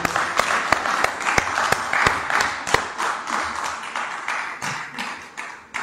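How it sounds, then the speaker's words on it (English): A church congregation gives a clap offering at a Father's Day service, with loud, rhythmic unison clapping that beats steadily and close throughout, against a crowd background. "Let's give him the best clap offering for this morning."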